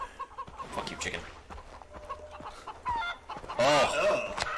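A chicken in the Far Cry video game clucks and squawks in quick, agitated bursts. The calls come close and loud, rising to a louder, drawn-out squawk toward the end.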